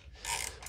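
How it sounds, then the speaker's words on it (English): A ratchet turns a 6 mm thread chaser in a damaged transmission pan bolt hole on a 2003-2008 Infiniti G35, giving a brief, close, quiet run of clicking. "I'm just gonna try to chase this thread"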